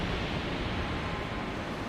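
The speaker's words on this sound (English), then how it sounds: "let's move out of the tidal waves, fellas" Tidal waves crash in the video game Elden Ring Nightreign, a dense, constant roar of surf and rushing water that holds steady and loud throughout, with no voices over it.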